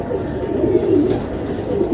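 A Lal Pari pigeon gives a soft, throaty cooing close by, low and wavering over a couple of seconds.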